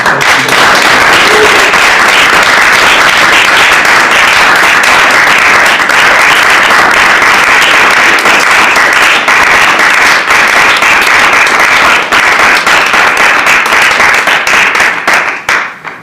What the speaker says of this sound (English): I'd like to give a round of applause for Mr. Goyland Williams.